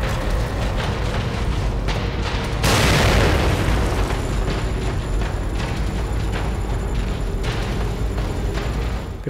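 A grenade goes off in the horror video game The Evil Within: one sudden, loud blast lands early, then fades into a dense, steady wash of game noise.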